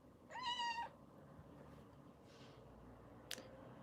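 A cat gives one clear, drawn-out meow near the start, alone against a quiet, faintly noisy room, followed by a brief soft click.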